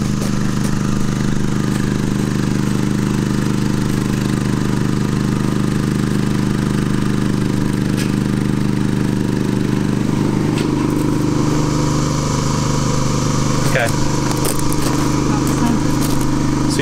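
A Champion dual fuel propane/gasoline generator engine drones steadily at an even pitch, about 58 decibels, with its exhaust pointed to the rear, clattering mechanical texture and a brief spoken word near the end.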